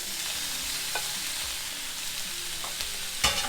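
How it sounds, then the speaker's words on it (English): Sausage fries in a pan with a continuous crackling sizzle and soft stirring scrapes, a sharper clack near the end, no voices. "So now we'll be adding the sausage."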